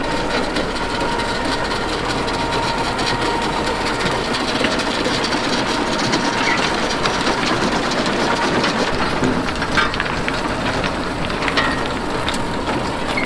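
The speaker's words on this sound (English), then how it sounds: "So now we got our tractor started and that's warming up." A tractor engine idles and warms up on a farm during windrowing, a steady, loud, close mechanical rumble with a rattling texture that runs without a break and without talk.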